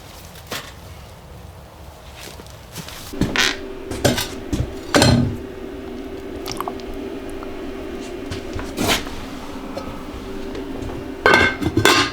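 A cooking pot of fats and venison at an off-grid cabin being handled, with a series of clanks and scrapes of metal against metal, a wet squishing, and a steady hum running underneath.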